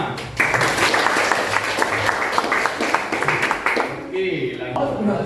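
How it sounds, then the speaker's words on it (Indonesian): A classroom of students in an online religion lesson applauds at close range, the clapping mixed with voices and chatter throughout before thinning near the end. "Oke, tepuk tangan."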